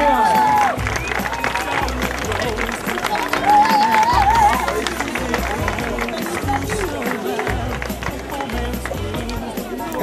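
Crowd at a basketball tournament award ceremony applauds and cheers for a team, a continuous wash of clapping and voices mixed with an announcer speaking and background music.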